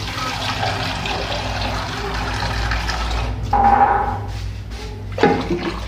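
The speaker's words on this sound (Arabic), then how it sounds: "دابا غادي ندير ليه الماء ونخليه يطيب" Water is poured into a cooking pot on a home kitchen stove, a continuous splashing stream that swells louder partway through and ends with a short burst of clatter.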